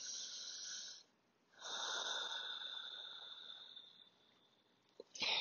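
Deep breaths are drawn in and let out slowly during a slow-flow yoga session, two long airy exhales close to the microphone, separated by a quiet pause and ending in a soft, brief sniff.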